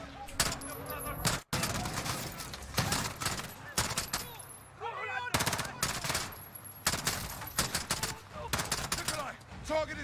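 Gunfire in the Modern Warfare realism campaign, with dense bursts of automatic and single shots cracking loudly and close almost throughout, a few brief gaps, and voices talking in between.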